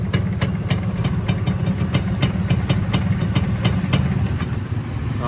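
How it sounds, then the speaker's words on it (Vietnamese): A Suzuki Xipo motorcycle engine idles up close, a steady low rumble with rapid, regular ticking pulses from the exhaust throughout. "Đây cho người nghe tiếng máy nè."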